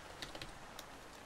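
Light typing on a computer keyboard, a handful of quick, faint key taps over a steady hiss, with no one talking.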